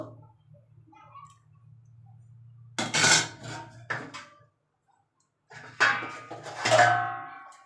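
Metal clanks and scrapes of a lid being set on a cooking pot while a curry of potato, pointed gourd and soya chunks simmers, several sharp clatters separated by quiet gaps over a faint low hum.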